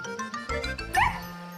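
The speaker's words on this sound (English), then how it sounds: "She gave a little bark." A small cartoon dog gives a short, high little yip, a single brief bark over soft background music in a gentle animated scene.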